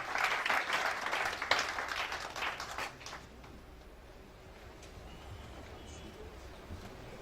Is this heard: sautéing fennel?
no